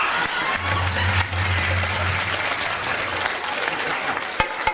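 Enthusiastic applause from an audience at a Holi celebration in a Hindu temple hall, steady clapping sustained for several seconds with crowd noise and a low hum beneath.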